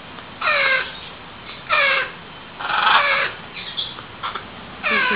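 Baby birds cry in a series of harsh, raspy squawking calls, loud and close, coming in bursts of varying length with brief gaps between them.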